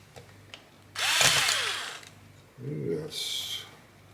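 A power drill drives screws into the chassis of a Vanquish VS4-10 RC crawler, with two short whirring bursts separated by a pause. The first burst is high-pitched and the second is lower as the screw seats.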